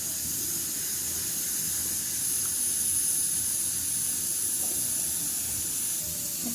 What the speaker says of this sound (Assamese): এতিয়া পানী দি দিম ইয়াত। পানী দিলোঁ মই।